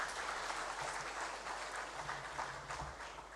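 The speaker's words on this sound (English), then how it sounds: "I thought we should give ourselves a round of applause." An audience at the 2022 Zenith Bank International Trade Seminar gives a round of applause. The clapping is steady, moderately soft and continuous, running for a few seconds with a slight fade toward the end.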